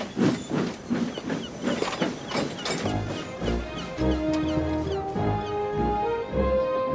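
Gordon the steam locomotive in the Trainz video game chuffs in a steady rhythm of hissing steam bursts, with music playing underneath throughout.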